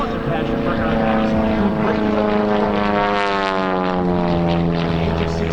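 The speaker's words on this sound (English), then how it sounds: "Remote control flying gave RJ a strong background for the unique brand of aerobatic flying that you're watching" An aerobatic propeller airplane performs at an air show, its engine a loud, continuous droning roar whose pitch slowly bends and shifts as it maneuvers overhead.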